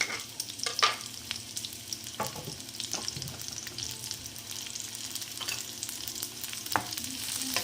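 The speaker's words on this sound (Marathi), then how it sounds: "हा कांदा सुद्धा आपण शॅलो फ्राय करून घेऊया" A large chopped onion shallow-fries in oil in a pan, giving a continuous soft sizzle with occasional stirring scrapes and clinks, close and moderately quiet, with no talking.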